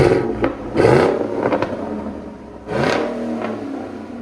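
Car engine revving hard through an aftermarket muffler exhaust, two loud, close throttle blips that rise and fall with a raspy roar and settle into a rumbling idle between them.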